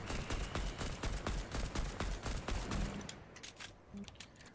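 Rapid gunfire in the Fortnite video game, a dense run of sharp repeated shots for about three seconds, then sparser distant bursts as firing tapers off.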